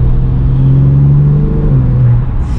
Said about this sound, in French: tu entends le petit bruit des turbos aussi